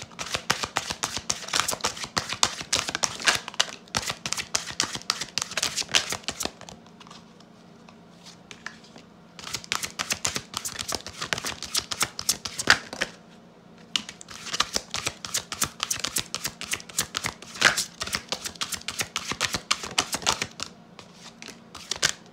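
Tarot confirmation cards shuffled in rapid bursts of crisp riffling and flicking, close and loud, with two brief pauses before the shuffling resumes.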